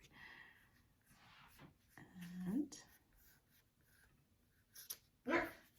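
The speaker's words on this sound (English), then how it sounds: "Now he's growling at his toy." A dog growls at its toy in a quiet room, giving a short low rumbling growl and then a second brief burst near the end, faint and close, with soft scratching of pencil on paper and murmured talk around it.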